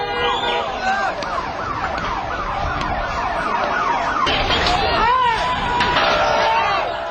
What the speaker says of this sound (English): an ambulance appears as if on cue